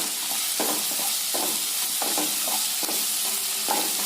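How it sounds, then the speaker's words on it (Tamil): Garlic, ginger and curry leaves sauté in hot oil in a pan for a Tamil drumstick gravy, a constant close sizzle with periodic stirring scrapes of a spoon. "சேர்த்துட்டு நல்லா வதக்கி விடலாங்க."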